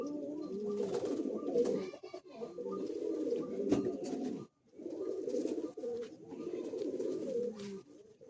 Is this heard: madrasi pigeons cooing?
yes